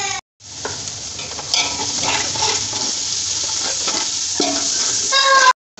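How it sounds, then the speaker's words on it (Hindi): Chicken nahari masala with chili and homemade spice mix roasts in a pan, giving a steady close sizzle with scraping stirs and clinks throughout, loudening slightly toward the end before cutting off. "अब इसकी मैं भुनाई कर रही हूँ"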